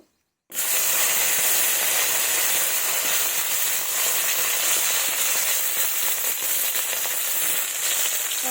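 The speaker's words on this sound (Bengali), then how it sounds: "এই তেলেই আমি ঢেঁড়সগুলো ভেজে নেব" Okra dropped into hot oil left over from frying fish, a sudden burst of loud sizzling after a brief silence, then a sustained bright hiss of frying close up, no talking.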